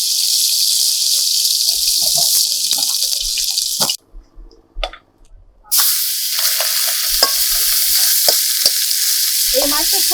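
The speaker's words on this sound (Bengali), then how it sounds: "মাছগুলোকে কিন্তু খুব ভালো করে ভেজে নিয়েছি এবার তুলে নেবো" Fish fries loudly in hot oil with a dense, continuous sizzle and occasional stirring clatter. The frying drops out for about two seconds while the pieces are lifted, then the sizzle returns at full strength.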